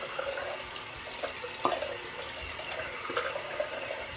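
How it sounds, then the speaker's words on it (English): Running tap water while rinsing after lathering Williams mug soap for a straight-razor shave, a steady hiss with faint clinks and splashes, close and alone, with no voices. "So I rinse off and re-lather for the second pass."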